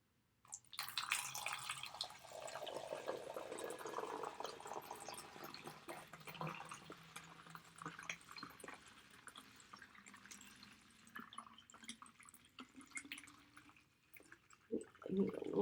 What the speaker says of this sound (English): fill them up with water from my Brita filter